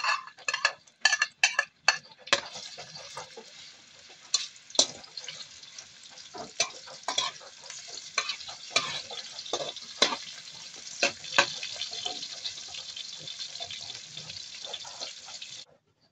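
Garlic and onion sautéing in hot cooking oil in a pan, a steady soft sizzle with frequent clicks and scrapes of a utensil stirring against the pan, close and fairly quiet.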